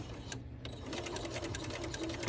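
A sewing machine stitches a short back-stitch at the end of a seam on a fabric scissor sleeve, a steady, close, continuous mechanical whirr with needle clatter after a brief pause at the start.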